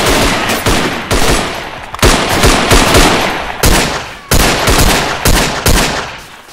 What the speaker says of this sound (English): Burst of fire!